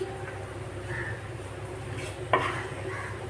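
Prawns fry in a pan and are stirred, giving a steady close sizzle with scraping stir sounds and one sharp utensil knock near the end.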